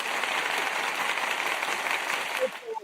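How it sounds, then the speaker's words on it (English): Applause from a small group rolls on steadily as a dense patter of clapping, fading out toward the end while voices come in. "We got an applause."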